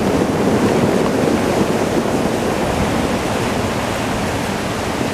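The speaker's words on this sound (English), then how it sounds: "Oh boy, waves are getting close." Ocean waves break on the shore at Pescadero with the tide coming in, a loud, steady wash of surf roaring close by, with no voices over it.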